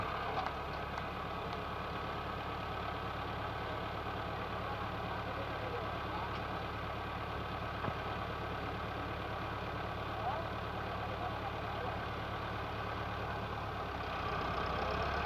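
A Massey Ferguson 385 tractor engine runs steadily in a field, a continuous mid-low idling drone heard throughout, with a voice speaking over it.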